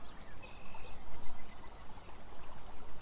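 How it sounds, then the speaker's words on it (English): Flowing water in the video game Beyond Eyes, a continuous fluttering stream with a soft brief tonal chirp near the start, heard alone at moderate level. "That's water."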